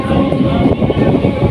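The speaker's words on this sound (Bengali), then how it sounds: "এখন উলুবেড়িয়া থেকে ছেড়ে দিল ট্রেনটা" Haldia Fast local train pulls out of Uluberia station, a loud, steady rumble of wheels and carriage rattle heard from on board, with rhythmic clatter throughout.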